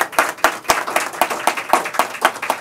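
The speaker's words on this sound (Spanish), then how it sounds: "yo pido que le demos un aplauso" An audience at an official event applauds with rhythmic, fairly close clapping that pulses through the whole stretch, with no talk over it.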